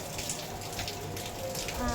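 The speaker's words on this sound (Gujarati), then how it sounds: "ફોનમાં નહીં બતાવે વધારે ઝાઝો પડતો વરસાદ, પણ છે આમ બહુ" Heavy rain pours steadily during a Ganesh Chaturthi celebration day, a dense continuous hiss of falling water with faint pattering, no voices heard.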